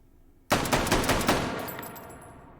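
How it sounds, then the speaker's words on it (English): A Model 8 semi-automatic carbine chambered in .35 Remington fires five quick shots in H3VR, a sharp first crack followed by rapid evenly spaced reports that ring out and decay into a fading tail. "Recoil test. 5 rounds of 35 Remington."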